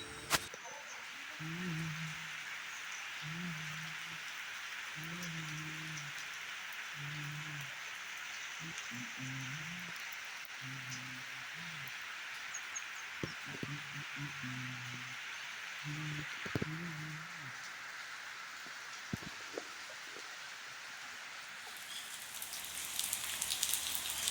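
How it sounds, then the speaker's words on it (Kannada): Steady rain hisses throughout, a broad wash of falling water with occasional drops, while a voice talks quietly underneath. "ಮನೆ ಹೊರಡ್ಬೇಕು ಅನ್ನೋಸತ್ತಿಗೆ ಮಳೆ ಸ್ಟಾರ್ಟ್ ಆಯಿತು"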